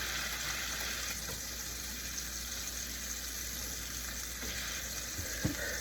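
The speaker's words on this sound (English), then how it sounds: "Now look at that satisfying simmer." Eggs and sausage sizzle and crackle in a frying pan, a steady, dense hiss that carries on throughout with one small pop near the end and no voices.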